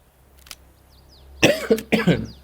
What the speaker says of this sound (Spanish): Disculpen, chicos, por la tos.